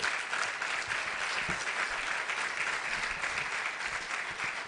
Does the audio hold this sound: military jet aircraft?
no